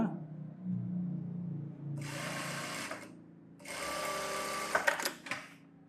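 Sewing machine stitching a saree blouse, running in two bursts of steady whirring of a few seconds each, with a quieter gap between them and faint sounds before the first burst.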